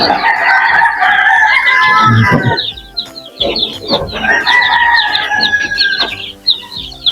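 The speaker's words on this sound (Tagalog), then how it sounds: "Ito yung sisiyo natin mga idol. Marami sila mga idol." Chickens and chicks in a yard cluck and squawk loudly and close by in repeated bursts, with a rooster-like crow among them.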